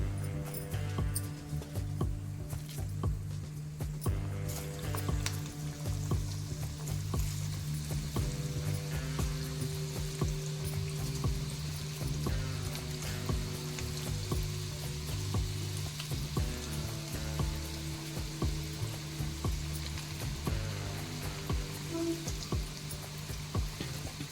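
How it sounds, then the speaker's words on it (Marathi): Chana dal fritters deep-fry in hot oil with a continuous crackling sizzle, steady and close, while rhythmic background music plays throughout. "अशीच सर्व आपण आता तळून घेणार आहोत"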